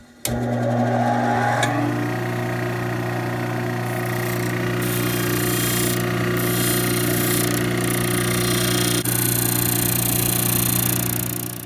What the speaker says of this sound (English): we're going to add a little bevel there and grind it to match the angle of the insert.